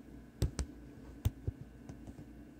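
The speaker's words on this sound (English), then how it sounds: "I'm going to put the camera on the coupler, so maybe you can hear the clicking." Relays in an RF-5034PA-400 400W amplifier click during its self-test, a handful of sharp, separate ticks at uneven spacing over a quiet background hum, recorded close.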